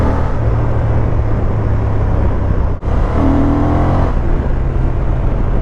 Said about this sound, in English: This 750 engine is fantastic, and it does sound good as well